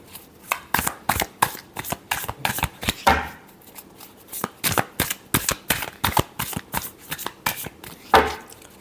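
Tarot cards shuffled by hand in a run of crisp riffling bursts, close and fairly loud, with short pauses between shuffles and a heavier flutter near the end.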